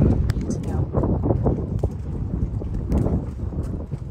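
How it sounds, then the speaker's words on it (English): Strong gusts buffet the microphone in a continuous low roar, with rustling and thumps mixed in. "Very windy."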